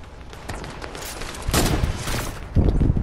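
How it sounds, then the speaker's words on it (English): Sniper rifle shots in a video game go off as a few loud, booming blasts spaced about a second apart, each followed by a short rumbling tail. "What the heck keeps missing all these sniper shots?"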